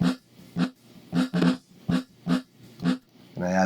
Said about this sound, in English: So I do something fucked up to it and make it sound horrible